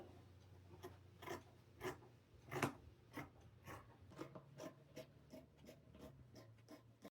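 Scissors snip through kitchen towel and shower curtain fabric in a faint, uneven series of close crunching cuts, each a short burst with quiet gaps between.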